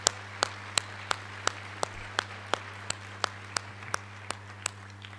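An audience at a journalism conference plenary claps in a sparse, distant round of applause, individual claps spaced steadily over a faint room hum.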